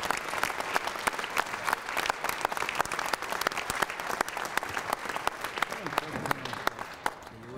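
Audience applause at a union retirement dinner honoring Stan, a steady dense patter of many hands clapping throughout, fairly close and sustained, with a few voices faintly under it.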